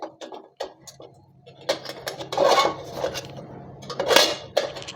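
A metal idli plate is set upside down in a steamer pot for steaming amla, giving clattering metallic knocks and scrapes with a couple of louder clanks, close and alone.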